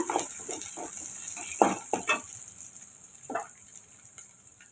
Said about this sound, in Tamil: கொஞ்சம் கருவேப்பிலை, கொஞ்சம் வெங்காயம் சேர்த்துக்கோங்க. சேர்த்துட்டு இப்போ நம்ம வதக்கி விட்டுக்கலாம்.